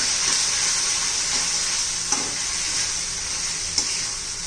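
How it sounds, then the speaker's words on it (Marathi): Homemade onion-garlic masala with coriander powder and turmeric sizzles steadily in hot oil for a spiced potato, pea and brinjal curry, with a couple of faint stirring knocks over the constant hiss and no talking. "आता हे मसाला घातल्यावर पण 1 मिनिट चांगलं परतून घ्यायचे"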